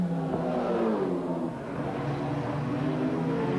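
A Holden Group A touring car powering out of a corner at the 1989 Adelaide street race, its engine note climbing steadily as the power comes on, loud and continuous with no talk.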